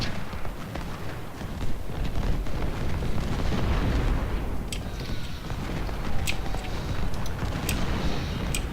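Artillery fire in a Civil War battle video game set at Malvern Hill: a continuous dense rumble of distant cannon blasts rolls on without pause, with faint sharp clicks later.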